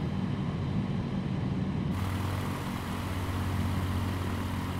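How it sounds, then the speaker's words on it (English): Rans S6S Coyote II light aircraft engine in Microsoft Flight Simulator drones steadily at a constant pitch, a buzzing, humming tone that shifts slightly partway through, with no talk. "That's a lovely engine sound"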